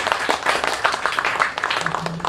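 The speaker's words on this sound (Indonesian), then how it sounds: "Oke, tepuk tangan dulu dong." Audience clapping at an Indonesian film screening and discussion session, a steady crowd applause with dense overlapping claps throughout, and a faint voice near the end.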